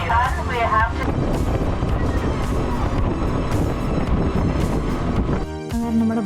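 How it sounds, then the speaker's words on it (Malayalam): A tour boat engine on the water near Phi Phi Island runs with a loud, continuous roar and heavy wind buffeting, then briefly dips and changes near the end, with voices under the noise. "അങ്ങനെ നമ്മുടെ ബോട്ട് സ്റ്റാർട്ട് ചെയ്ത്"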